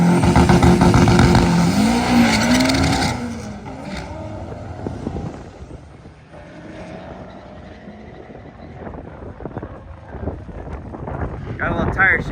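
A race truck makes a drag racing pass. A loud engine roar fills the first few seconds, then drops away into steady wind noise, with the engine fainter and more distant.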